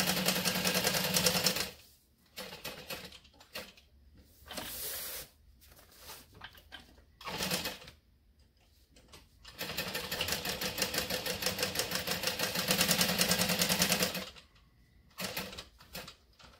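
A sewing machine stitches a bucket bag in several bursts of varying length, with a long steady run in the middle and short pauses and handling noises between stretches.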